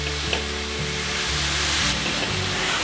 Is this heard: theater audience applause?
no